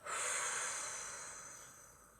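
A person exhales forcefully in one long, breathy rush during a muscle-tensing relaxation exercise, close and fairly quiet, peaking early and fading slowly over about two seconds with no talk.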